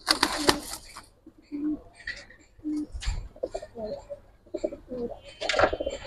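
Pigeons cooing at a pigeon farm with Gribaz and coloured breeds, repeated low throaty coos and a few chirps close by, mixed with scattered rustling and flapping among the birds.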